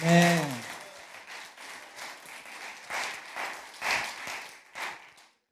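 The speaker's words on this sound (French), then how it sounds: "Acclamons-le pour cette intercession." A church congregation bursts into applause and cheering acclaim after a call to praise, a voice briefly at the start, then sustained clapping that swells and fades.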